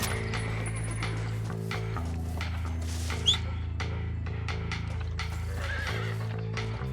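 A horse in Red Dead Redemption whinnies loudly and repeatedly up close. Clopping hooves and a faint metallic clink run underneath, against a steady droning background.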